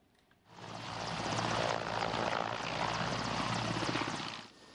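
Military transport-attack helicopter of the Joint Forces Operation flying overhead, a loud steady roar of engine and rotor that swells in after half a second and holds before easing at the end.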